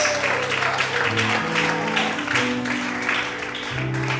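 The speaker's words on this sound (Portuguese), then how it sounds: "Você pode aplaudir a Deus nessa noite?" A congregation at an evening church service applauds steadily while keyboard chords shift beneath the dense clapping, holding a fairly loud, even level throughout.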